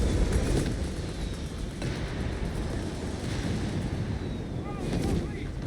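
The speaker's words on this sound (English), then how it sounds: "I'm very quick to respond to this by firing off another Nebelwerfer barrage" Nebelwerfer rocket barrage in Company of Heroes 3 fires as a dense, continuous rumble of booms and crackling blasts, loud throughout with heavier swells near the start and end.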